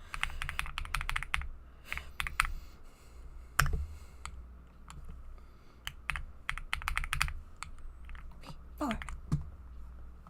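A clacky mechanical computer keyboard is typed on in quick irregular bursts with short pauses, up close, over a low background hum.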